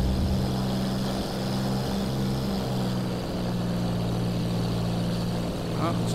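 A Hawker Hurricane's propeller engine in X-Plane 11 drones steadily and loudly while power comes up, holding a low throbbing hum throughout with talk over it.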